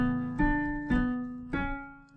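Piano playing a suspended chord from Danny Boy in D, three soft struck chords about half a second apart, each ringing and fading, played alone.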